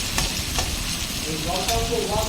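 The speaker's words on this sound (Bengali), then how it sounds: "তারপর এই যে উচ্ছে আর আলু ভাজা করে নিচ্ছি" Bitter gourd and potato slices fry in a pan with a steady close sizzle and occasional stirring scrapes, continuous through the whole stretch without talk.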